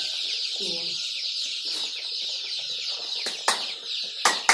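Rhode Island Red and Australorp chickens cluck at a hatchery, a steady close chorus of soft clucks with a few sharper squawks near the end.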